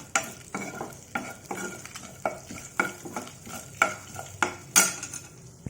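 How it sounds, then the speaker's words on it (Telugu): Tempering spices crackle and sizzle in hot oil in a pan for an onion, peanut and tomato chutney, with a steady series of sharp stirring scrapes and clinks at close range and no talking. "అందుకని పోపు కొంచెం ఎక్కువ వేస్తున్నాను నేను."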